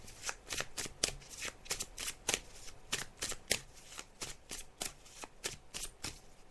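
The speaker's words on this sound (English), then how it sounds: "So I'm just shuffling the cards now" A deck of tarot cards being shuffled up close: quick papery riffles and snaps repeat in a steady, brisk rhythm of about a dozen bursts, with no voices.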